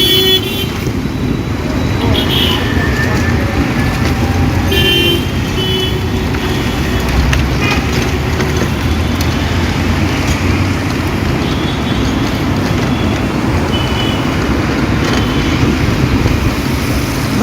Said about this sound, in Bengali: কেমন কি শব্দ দূষণ।